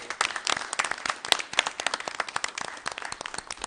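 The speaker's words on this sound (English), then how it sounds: "Let's give them a round of applause." An audience at a village board of trustees meeting applauds with steady, dense clapping throughout, close and moderately loud, after a color guard presentation, with no talk over it.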